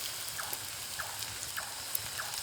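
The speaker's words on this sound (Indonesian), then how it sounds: "Hujan ya." Rain falling at a camping site at the edge of a town, a steady wash of hiss with soft pattering drops spread evenly throughout, no voices.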